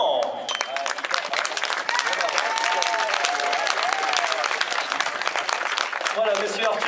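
A large audience applauds steadily and loudly throughout at a women's World Cup cycling race final, a dense continuous patter of clapping with a voice speaking over it.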